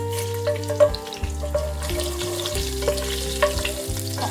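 Cumin seeds popping and frying in a hot pan, with sharp crackles scattered over a steady sizzle and a low hum, plus occasional clinks of stirring, close up and without talk.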